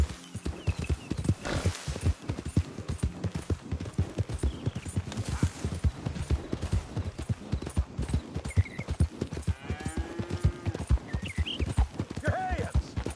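Horse hooves clip-clop steadily and close while riding in a video game, with an occasional whinny, under frequent talk from a speaker and game characters.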